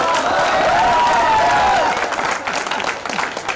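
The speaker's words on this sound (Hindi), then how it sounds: "एक बार ताली बजाइए और आनंद लीजिए।" Audience at a Hindi poetry recital clapping loudly, with a few cheers, a sustained burst of applause with a tonal voice or whistle rising over it early on, then the clapping thins slightly.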